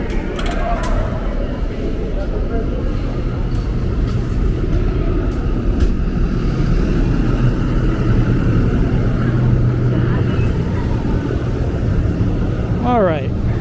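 Subway station at Jackson Heights, Queens on Roosevelt Avenue, with a loud steady rumble of trains and station noise, a brief squeal near the end, and people talking nearby.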